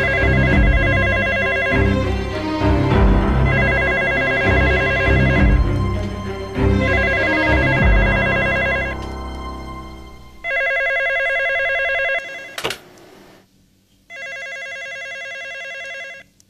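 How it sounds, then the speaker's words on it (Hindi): A telephone rings in a dubbed drama scene, with repeated bright electronic ring bursts that sound at first over busier background sound, then ring out alone with short gaps of quiet between them. "फोन उठाएं।"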